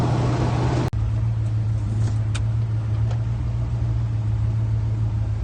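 A GMC C25 squarebody pickup truck engine runs steadily with a low, constant hum and rumble while driving, broken by a brief sharp click near the start.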